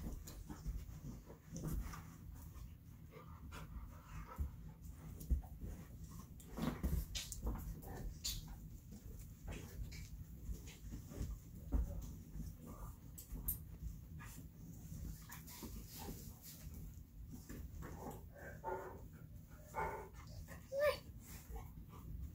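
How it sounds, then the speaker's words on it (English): A dog pants softly and steadily at home during a quiet evening wind-down, with occasional faint whimpers and small yips. Everything stays low and close, with no clear speech. "A whole lot of dog going on."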